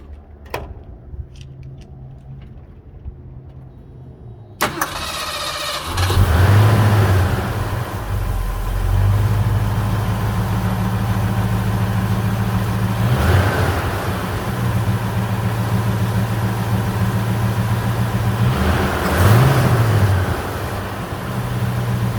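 Clicks and a brief crank, then the 351 Cleveland V8 of a 1973 Mercury Cougar XR7 convertible bursts to life with a rev and settles into a deep, steady idle, blipped a couple more times.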